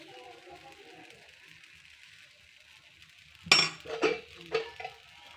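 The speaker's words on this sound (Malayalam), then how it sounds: "അപ്പോൾ പാന് ചൂടായി, നമുക്ക് ദോശ ചുട്ടെടുക്കാം" Dosa cooks on a hot pan, with three sharp clatters of a utensil or pan after a few seconds of quiet, preceded by a faint low hum.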